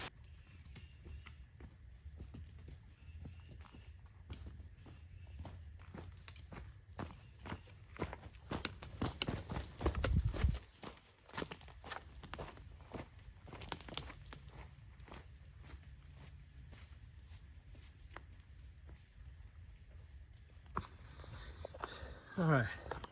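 Footsteps crunch along a mountain trail at Oak Mountain under a small umbrella, soft and steady with a louder scuffing burst midway, while a person talks quietly over them.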